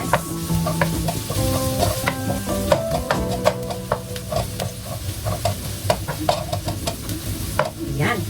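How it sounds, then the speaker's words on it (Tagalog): Garlic sautéing in olive oil in a pan for tokwa and kangkong, a loud close sizzle under repeated scraping and stirring of a utensil against the pan, without speech. "Magigisa na tayo, mga meses."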